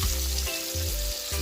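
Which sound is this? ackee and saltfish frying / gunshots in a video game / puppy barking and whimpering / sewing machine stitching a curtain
ackee and saltfish frying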